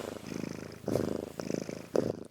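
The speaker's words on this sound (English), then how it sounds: "Had to get some purring on the mic." A cat purring close to the microphone in steady rhythmic pulses, fairly soft and alone with no voices.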